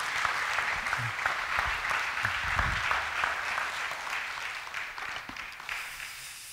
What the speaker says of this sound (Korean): 뜨거운 박수로 환영합니다.